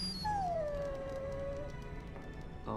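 A dog in the fantasy role-playing game Dragon Age: Origins lets out a single drawn-out, falling whine, clear and close over a low background hum.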